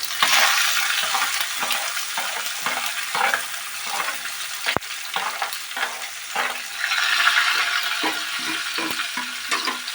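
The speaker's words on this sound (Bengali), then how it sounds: "পেঁয়াজ টমেটোকে আমি কিছুক্ষণ ফ্রাই করবো যতক্ষণ না পেঁয়াজটা একটু রেজেক্ট হয়ে ফ্রাই হবে আর টমেটোটা গলে আসবে" Chopped onion, tomato and green chilli fry steadily in a pan, a continuous bright sizzle with soft irregular stirring scrapes throughout, close and fairly loud, with no voices.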